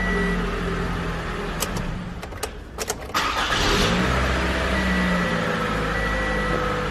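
A 2012–2017 Toyota Camry engine cranks with a few sharp starter bursts, then catches and settles into a steady, close running hum, after a camshaft actuator replacement.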